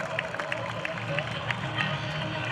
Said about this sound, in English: Let's give him a big round of applause. Make some noise, Pensacola.